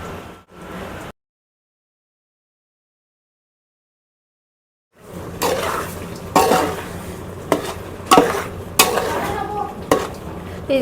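Chicken being fried with masala for Bangalore-style donne biryani, stirred now and then in a pan, giving a sizzle and spoon-scraping sounds after a brief silent gap, with several louder stirring strokes.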